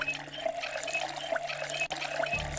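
Water runs steadily into a container in the Project Zomboid video game, a continuous close trickling fill that lasts a couple of seconds with no talk.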